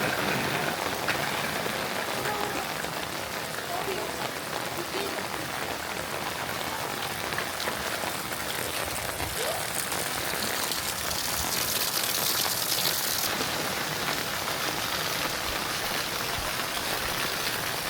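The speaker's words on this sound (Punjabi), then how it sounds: "ਮੀਂਹ ਵੀ ਕਣੀਆਂ ਜਿਹੜੀਆਂ ਨਾ ਥੋੜੀਆਂ ਹੌਲੀ ਹੋ ਗਈਆਂ" Monsoon rain in a Punjab village, heavy and unbroken, forming a loud, continuous wash of falling drops with no voices over it.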